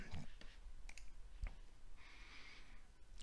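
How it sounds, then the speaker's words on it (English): A mouse double-clicks on a Windows 10 computer, two quick faint clicks and then another soft click, heard close over quiet room noise. "We're going to double click that."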